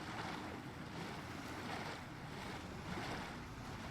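A waterfall in the video game Avowed, a steady broad rushing roar of falling water that fills the whole stretch without pause or speech.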